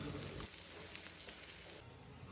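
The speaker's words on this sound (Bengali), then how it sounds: "আর এইদিকে আমি কাঁচকলা ভাজা বসিয়ে দিয়েছি" Green plantain slices fry in a pan with a steady, close sizzle and crackle that runs almost the whole time, then drops to a lower hiss near the end.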